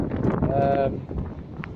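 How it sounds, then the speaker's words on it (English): Wind buffets the microphone with a low, rumbling roar, loud and constant, while a voice speaks underneath. "It's a bit windy."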